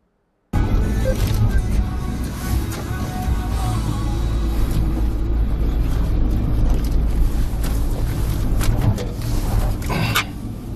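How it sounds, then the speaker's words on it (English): Police car driving at a crash scene, a loud and steady engine and road rumble close to the mic that runs for about ten seconds with a faint rattle and no talk. "This is where Officer Macario makes a U-turn"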